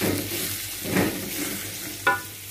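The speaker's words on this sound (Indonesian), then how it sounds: "Ini saya sangrai" A spice paste dry-fries, sizzling and crackling softly in a hot pan, with a scrape of stirring and a brief sharper clatter near the end.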